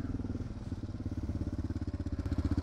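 A motorcycle idles at a gas pump with a steady, throbbing low engine pulse, close and continuous with an even rhythmic chug throughout.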